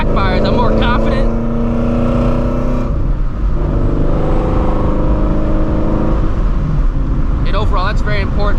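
A Shelby GT350 with a manual gearbox revs hard and downshifts, loud and close, with the engine note rising and falling and brief pops mixed in, while someone talks over parts of it.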